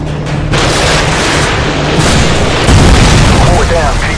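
AGM missile explosion in the Modern Warfare video game: a loud, sustained boom with deep rumbling that swells again midway, heavy and close, with game voices talking over it.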